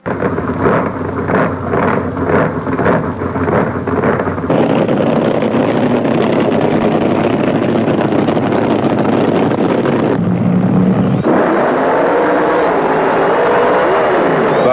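A drag racing car powered by a 1,750 horsepower supercharged Hemi roars loudly down the strip, a dense sustained blast that cuts off sharply midway and is followed by quieter engine noise and wind rumble.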